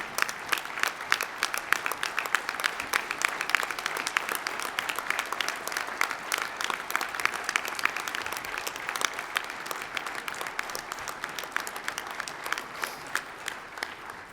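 A large audience applauds steadily, a dense wash of many hands clapping that holds for the whole stretch, gradually softening near the end.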